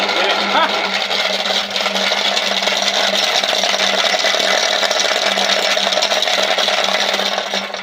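A Rotex 100 pellet mill granulator runs nearby, giving a loud, continuous droning mechanical roar that holds steady throughout with no breaks.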